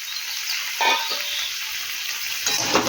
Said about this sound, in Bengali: টমেটো আর পোস্ত খুব ভালো মতো একসাথে মেশানো হয়ে গেছে এবার দেব আগে থেকে ভেজে রাখা পটলটা